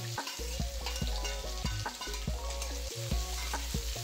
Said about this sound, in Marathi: जिरं मोहरी तडतडले की कढीपत्ता टाका। नंतर कांदा मिरची टाकायचं।